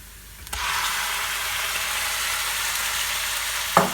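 A kilogram of beef goes into a hot pan of browned onions for beef stroganoff, setting off a sudden loud sizzle that holds steady, followed by a single metallic clank near the end.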